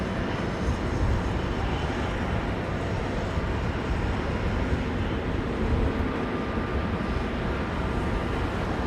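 An Aeromexico airliner lands at London Heathrow in a crosswind, a steady broadband engine roar and rush of air that holds loud and even throughout, with no voices over it.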